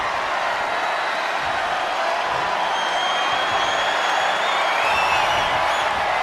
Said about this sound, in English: Taking a moment to get pumped off of this crowd's incredible energy